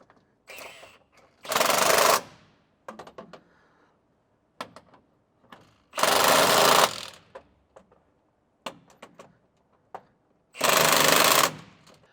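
Power tool tightening bolts in a garage project: three loud, harsh bursts of about a second each, separated by quiet gaps with scattered small clanks and handling noises, close to the microphone.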